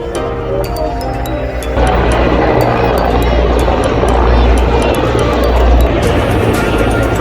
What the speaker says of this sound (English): Even there's some helicopters going here.